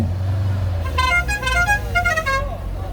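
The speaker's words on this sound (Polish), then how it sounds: "te trąbki są rewelacyjne." Several musical-toned car horns from a Fiat 128 Sport L blare in quick succession at a classic car show, a loud melodic toot sequence lasting about a second and a half over the crowd's low murmur.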